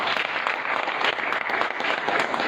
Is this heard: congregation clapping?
yes